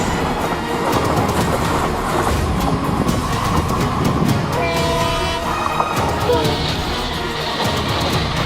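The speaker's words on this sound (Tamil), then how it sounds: "புயலை கிளப்பி வந்த ரயில்." An express train on a speed-record test run between Madurai and Bodinayakanur roars past at speed, a loud, close, continuous rush of rumbling wheels and rattling cars, with horn-like tonal bursts midway and near the end.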